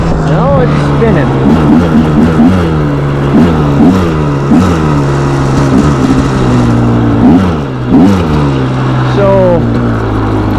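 A dirt bike engine revs repeatedly in rising and falling bursts as its studded tyre spins on ice, loud and close with engine pitch swooping up and down.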